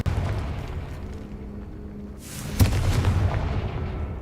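A Confringo fire-bolt spell blasts in Hogwarts Legacy, a sharp boom erupting midway after a steady rumbling background, followed by a crackling, sizzling tail that lingers to the end.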